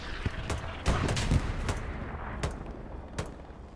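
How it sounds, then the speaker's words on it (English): Artillery shells land in the video game Hell Let Loose during a 49-versus-49 Omaha Beach match, heard as scattered dull booms and sharp cracks, several distant and a few nearer, over a rumbling battlefield background. "Artillery is falling right around it"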